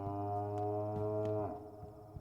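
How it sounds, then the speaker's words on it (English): In the Pathologic 2 video game, a deep, drawn-out cow moo holds steady for over a second, then bends downward and fades, loud and clear with no talk over it. "I heard a big moo."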